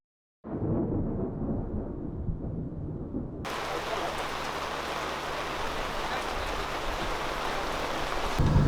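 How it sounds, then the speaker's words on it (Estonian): Steady rain pours down at an outdoor drift event in Estonia, a dense broadband hiss that starts quiet and muffled, then turns louder and brighter, like drops hitting a close surface, with a low hum beneath. "No vihm ikka rikub nii palju ära."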